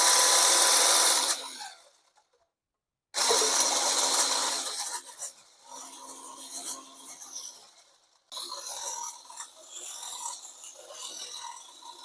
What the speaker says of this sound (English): So now I'm going to mix the egg white.